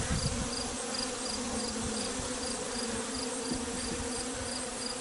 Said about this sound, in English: A few bees on it